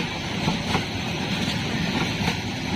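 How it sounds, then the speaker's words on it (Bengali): Meter gauge train at a bypass railway station, heard as a continuous broad rumble and noise with no clear individual events, steady throughout. "এটা মিটার গেজ ট্রেন"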